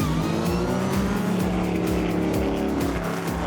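An early McLaren M10A Formula 5000 race car, based on a Formula 1 car and running a Chevy engine, at the Hampton Downs motor racing festival. The engine holds a loud, steady, droning note with rising revs and nearby race-car noise.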